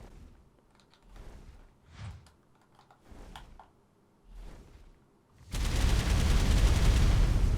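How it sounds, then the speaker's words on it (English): Flame-breath attack from a creature in the ARK Dark and Light crossover mod, bursting out as a dense, loud, rapid machine-gun-like roar after several quieter scattered thumps and clicks. "So it's like a machine gun of flames, literally"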